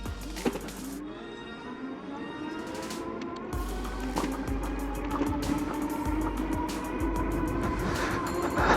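A TST R002 moped-style electric bike accelerates while being pedalled in its highest assist mode, giving a steady motor whine that builds and rises in pitch, with wind and road noise growing louder throughout.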